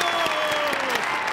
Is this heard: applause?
yes